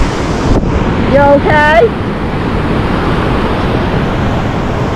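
Ocean waves and surf wash steadily, loud and close, in constant roaring noise with wind on the microphone, while a person briefly speaks over it.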